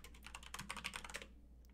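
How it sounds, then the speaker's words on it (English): Rapid, close clicking of keys as someone types on a computer keyboard, a quick run of taps over a low steady hum that stops short before the end. "In fact, I'll just go ahead and type it in."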